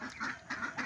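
Twenty-day-old ducklings quack as they eat, three bursts of close, raspy calls repeating in quick succession with no talk.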